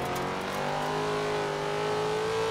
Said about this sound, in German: wir haben ja auf jeden Fall super wenig Wheelspin dafür, dass der Wagen jetzt echt über 400 PS hat